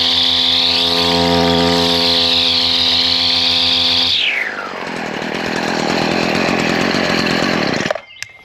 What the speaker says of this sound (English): I'm just gonna do full throttle on this.